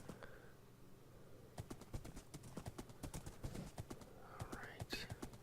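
A horse in the Minecraft video game trots along, its hooves clip-clopping in a quick, rhythmic series of sharp close taps over several seconds, with a faint voice in the background.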